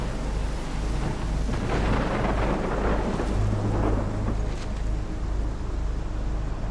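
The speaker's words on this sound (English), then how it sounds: "I've never seen a storm like this before." Heavy rain pours steadily during a thunderstorm in the video game Life is Strange, with deep rolling thunder rumbling underneath the constant loud hiss of the downpour and no voices.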